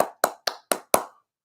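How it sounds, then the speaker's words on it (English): Five slow, deliberate hand claps spaced evenly about a quarter second apart, crisp and close, like a measured theater clap, then silence. "That's like a theater clap."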